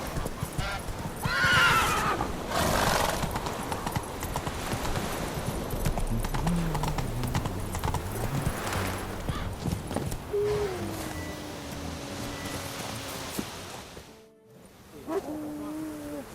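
Roach the horse in The Witcher 3 whinnies loudly near the start, followed by snorts and clip-clopping hooves close by, with some quieter game sounds and a brief drop to silence near the end.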